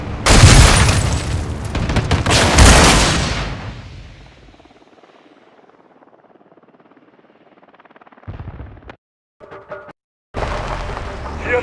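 Enemy APC fire and blasts in Call of Duty: Modern Warfare II erupt as loud, close rapid booms and heavy gunfire that roll off into a long fading rumble, followed by quieter scattered bursts and a final loud crack.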